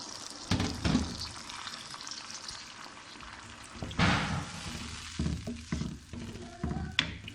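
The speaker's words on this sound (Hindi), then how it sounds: "गर्म पानी शामिल कर देंगे। ये 1 से 2 गिलास पानी है।" Hot water, one to two glasses, poured into a pot of simmering bean curry, giving a short splashing pour followed by bubbling and sizzling, close and moderately loud, with a few clatters of utensils.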